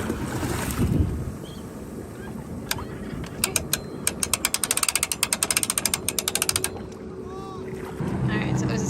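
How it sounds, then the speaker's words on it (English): A boat trailer winch cranked by hand to load a jet ski at a causeway, giving a run of rapid, evenly spaced ratchet clicks that rise out of steady wind and water noise, close and clear. "Alright, then I crank and Lewis lifts."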